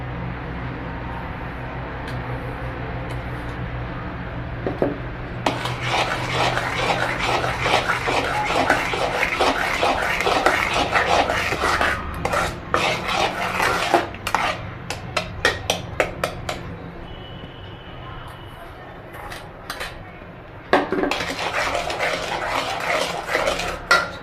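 A spoon scrapes and clinks steadily against a bowl while powdered sugar is stirred into thick homemade dry fruit shrikhand, rapid repeated clatter that pauses briefly midway, close and fairly loud.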